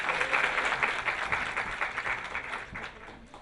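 An audience applauding to welcome a guest at an event, a crowd of clapping hands, strongest at the start and tapering off gradually toward the end.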